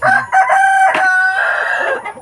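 Free-range heritage chickens, including a rooster, crow and cluck close by, loud overlapping calls that fill the whole moment.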